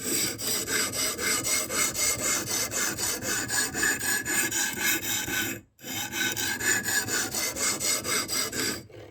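A knife blade is drawn across a sharpening stone in rapid, regular rasping strokes, a close, steady scraping rhythm with one brief pause midway before the strokes resume.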